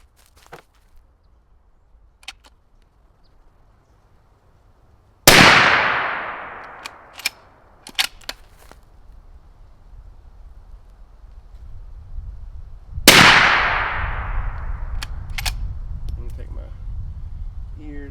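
Two sharp suppressed rifle shots, a few seconds apart, from a GSL Bushman suppressor firing Hornady Black 250 grain FTX ammunition outdoors. Each is a loud crack with a short decaying tail, and faint clicks sound between them.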